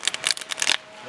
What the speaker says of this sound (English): I'm gonna shuffle up this card.